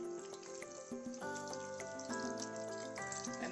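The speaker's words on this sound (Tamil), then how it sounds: "தண்ணி ஆட் பண்ணிக்கலாம்." Water pours into a pot of simmering Punjabi dhaba-style mutton gravy, a steady splashing gush that runs continuously at moderate volume, with kitchen clatter and no talking.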